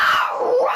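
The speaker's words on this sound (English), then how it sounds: "I'm gonna use some example scream." A sound-effect scream, one loud sustained cry that slides downward in pitch and then rises again, heard alone.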